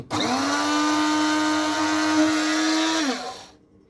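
An electric grinder whirs steadily at home through Turkish coffee beans, a loud close-up motor whine holding for about three seconds before spinning down, with no talk.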